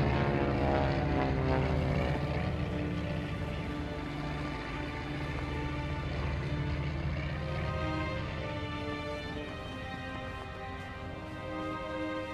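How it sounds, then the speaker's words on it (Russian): A propeller airplane drones steadily overhead, its engine hum loud at first and fading slightly as it passes, with no voices. "Над нами пролетел самолет."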